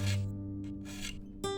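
A steel file rasps across the teeth of a pruning saw in a few short, separate strokes, close and fairly loud over a steady low hum.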